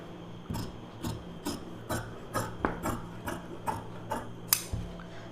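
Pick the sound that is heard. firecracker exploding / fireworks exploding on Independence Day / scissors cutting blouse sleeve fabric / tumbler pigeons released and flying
scissors cutting blouse sleeve fabric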